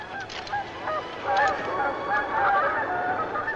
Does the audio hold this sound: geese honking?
yes